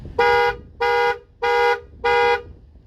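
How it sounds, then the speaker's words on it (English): Four loud, evenly spaced horn honks from a 1987–1991 Ford truck's keyless entry panic alarm blare in a steady rhythm, each lasting about a third of a second, close by. "Gives you panic, flashes the parking lights, flashes the dome light, and honks the horn."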